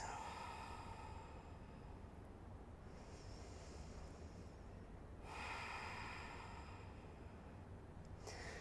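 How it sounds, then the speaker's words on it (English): Slow, deep breaths are taken during a gentle yoga session for back pain, a faint close airy inhale and exhale pattern in quiet surroundings. "Deep breaths."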